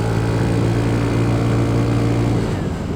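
Kymco RTS R165 scooter engine revving steadily on a mountain road, a loud, sustained drone with a strong low hum that holds throughout before easing slightly at the end.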